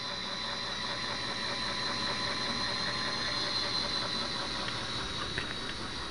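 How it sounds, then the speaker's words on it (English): A LEGO Mindstorms vehicle's electric motor turning a worm gear, a steady close mechanical whir with a fine ratcheting gear chatter running continuously at constant level. "Each side is controlled independently. From a motor and a worm gear."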